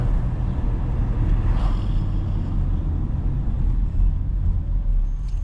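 A 2019 Porsche Macan engine rumbles steadily and low through a smooth downshift, a continuous car drone heard from inside the cabin with no talk.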